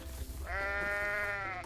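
A goat from the video game Goat Simulator gives one sustained, nasal bleat lasting over a second, close and clear, rising out of a low background rumble.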